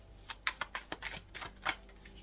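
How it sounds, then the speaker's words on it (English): Tarot cards are shuffled in a quick run of crisp, riffling flutters and soft slaps, several bursts over a couple of seconds, close and fairly quiet with no talking. "Let me shuffle."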